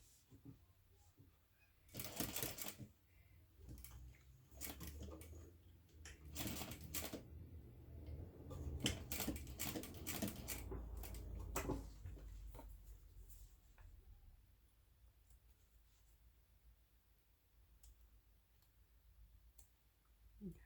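A sewing machine top stitches along a fold, running in several quick, close bursts of clicking needle strokes with pauses between them, faint and close.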